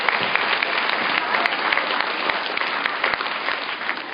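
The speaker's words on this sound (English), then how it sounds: "Give them a big clap." School assembly applause for students of the week, steady dense clapping from a hall full of children, loud and continuous with no talk over it.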